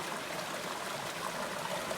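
River water flowing at Hutch's Pool in an Arizona canyon, a wide spot in the river: a faint, steady broadband rush and babble with no breaks and no voices.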